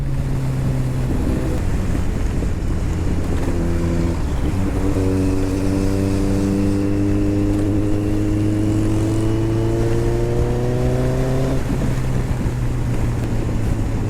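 A Kawasaki ZX-14R motorcycle cruises steadily on a solo ride to Tagaytay, its engine droning loud and close under constant wind rush, with the pitch gradually climbing as it accelerates through a gear before settling back to a lower drone.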